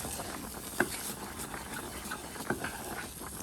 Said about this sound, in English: The aim is to saute the onions to make them softer and to brown the mince.